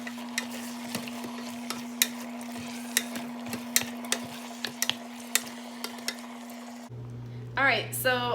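Meat for a keto chili verde stew sautés in a pan under a low steady hum, with a spatula knocking against the pan in sharp irregular taps; a voice briefly starts speaking near the end.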